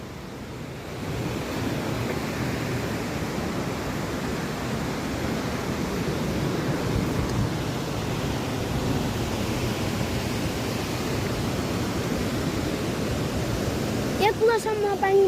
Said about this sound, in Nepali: बाइस मुलको झरना हेरेपछि हामी